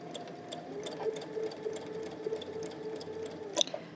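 A home sewing machine runs steadily while stitching quilt pieces at a quarter-inch seam, a close, even mechanical whir with a soft rhythmic clatter and a few brief louder clicks near the end.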